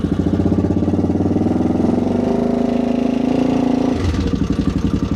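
A 2007 Suzuki DR-Z motorcycle engine, started on choke, settles into a steady, close single-cylinder idle with a clear pulsing beat, pitch shifting slightly near the end, with no talking.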